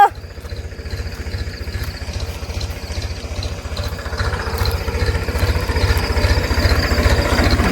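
A modified farm tractor engine runs with a loud, rapid low thumping pulse, close by and steady, gradually building in intensity with no talk over it.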